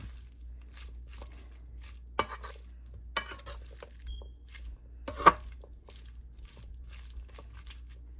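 Carrot, beet and avocado salad being tossed with olive oil, a soft continuous mixing rustle with a few sharp utensil clinks against the bowl, quiet and close, with no voices.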